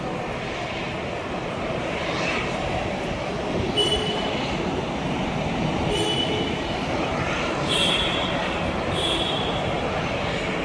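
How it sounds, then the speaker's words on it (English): An Air India airliner taxiing toward the domestic terminal at Chennai after landing, heard as a steady, broad rumble of turbine engine and rolling noise at a moderate distance, with a few faint high whines rising over it. "Air India flight heading towards the domestic terminal."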